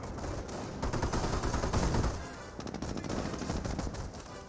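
Machine-gun fire from a strafing run in the Company of Heroes video game, a loud, dense rattle of rapid bursts lasting several seconds that briefly eases midway before resuming.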